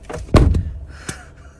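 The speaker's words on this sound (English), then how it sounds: "Did you just slam the car door?" Car door slammed shut with a loud, close, heavy thud, followed by a softer knock a moment later, no talking.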